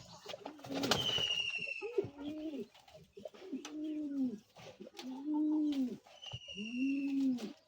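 Pigeons coo close by in a series of repeated rounded phrases separated by short pauses, with a brief chirp near the start and no talking.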